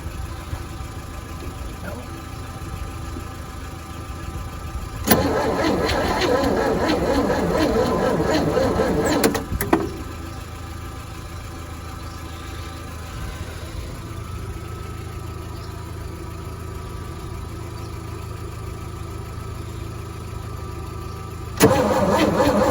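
A 1963 one-ton truck engine cranks loudly for several seconds, then drops to a lower, steady rumble, with a second brief burst of cranking near the end.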